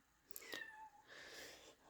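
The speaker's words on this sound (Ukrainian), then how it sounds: "Якщо ви чуєте посторонні звуки, це, то це мій котик." A house cat meows faintly indoors, a short rising cry followed by a longer drawn-out meow, distant and soft against quiet room tone.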